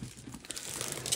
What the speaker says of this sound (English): This is some tough old cellophane.